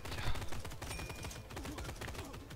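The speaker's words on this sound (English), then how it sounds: "It's automatically fired my gun." Automatic gunfire in the top-down shooter Tango Fiesta, a steady stream of rapid, evenly spaced shots, fairly quiet and continuous throughout.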